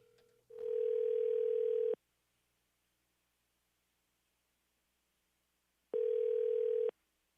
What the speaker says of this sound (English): we're going to make a phone call right now and see if we can get a hold of Brian Driscoll.